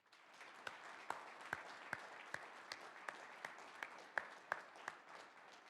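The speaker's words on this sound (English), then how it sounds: "Please join me again in giving them a round of applause." Applause at an academy graduation ceremony, faint and thin, with distinct separate claps landing in a loose, fairly even rhythm over a soft bed of scattered clapping.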